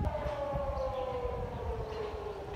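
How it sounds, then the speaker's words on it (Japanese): An air-raid civil defense siren sounds during an annual air defense drill in Taiwan, a single sustained wailing tone slowly falling in pitch, heard from a distance over street ambience. "今サイレンが鳴りました。"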